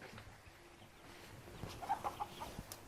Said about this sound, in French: Donc vous voyez des poules aussi.